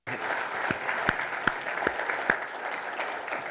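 Applause from a conference audience during welcome and opening remarks, a continuous wash of clapping with a few sharp, close claps popping out of it.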